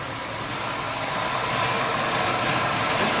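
A carburetor-less engine idling slowly at low RPM gives a steady, loud, close rumble with faint sympathetic rattles running underneath throughout.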